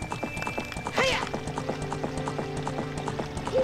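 Horse running in Zelda: Ocarina of Time: a brisk, steady clip-clop of hooves at close range, with a short whinny near the start and ambient game sounds underneath.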